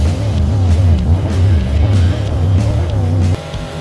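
Monster truck engines roar through a mud pit in the BeamNG Drive video game: a loud, continuous low growl with wavering revs as the trucks push for speed, dropping slightly near the end.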